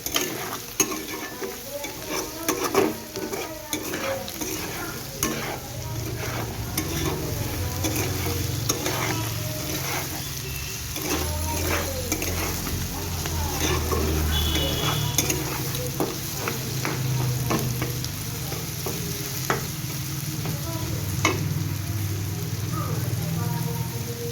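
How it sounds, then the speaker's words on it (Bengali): Vegetables seasoned with salt sizzle in a frying pan while a spatula scrapes and stirs them in repeated, uneven strokes, a close, moderately quiet crackle running throughout. "আমার সবজিগুলো ভালোভাবে ভাজা হয়ে গেছে।"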